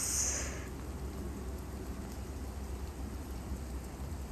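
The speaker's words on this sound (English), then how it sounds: "Wow, what a beautiful weather. Snow and with rain," Steady rain with snow falling outdoors on a stormy winter morning, a dense, even hiss of precipitation that continues throughout with a low rumble underneath and no voices.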